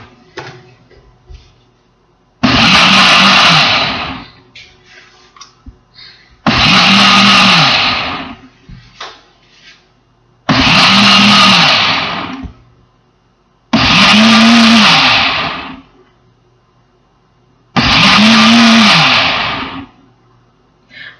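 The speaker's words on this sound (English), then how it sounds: "we are going to touch the smoothie button on the blender" A countertop blender on its smoothie setting runs in five separate pulses, each a loud, close whirring roar lasting a couple of seconds with silent gaps between.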